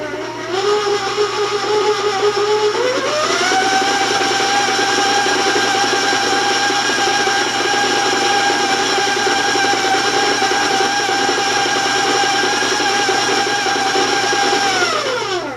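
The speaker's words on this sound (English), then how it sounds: "I'm going to warn you about the sound of the mixer because it can be kind of loud on your end" An electric stand mixer beats butter into dry ingredients for sugar cookie sprinkle bars. It whirs steadily and loudly, its pitch rising once as it speeds up early, then holding an even drone before easing slightly at the end.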